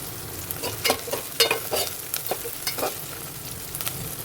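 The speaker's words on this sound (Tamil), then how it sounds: "வெங்காயம் நல்லா வதங்கிட்டோம் வெங்காயம் நல்லா வதங்கிடுச்சு" Onions sautéing in a pan for a prawn curry, stirred with a spatula, giving a steady sizzle broken by repeated scraping strokes at an irregular rhythm; close up with no talking.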